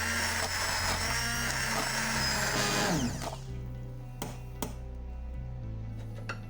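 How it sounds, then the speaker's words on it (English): A motorized blender whirs loudly and steadily for about three seconds blending fish soup broth, then cuts out, leaving a quieter hum with a few sharp clicks. "With the help of a blender, we will blend the broth."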